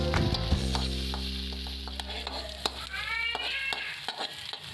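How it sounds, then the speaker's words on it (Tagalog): Sliced garlic and then onion sauté in a pan with a steady, close sizzle and occasional stirring clicks, while a cat meows briefly partway through. "Unahin lamang po nating igisa ang ating mga hiniwang bawang. Isunod ang hiniwang sibuyas."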